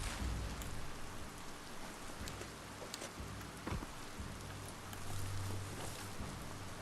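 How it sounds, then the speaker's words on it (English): Steady, dense rain hiss from the video game Biomutant fills the scene without pause, with a few sharper drop or splash ticks and a low rumble underneath, and no voices. "Oh no! Rain!"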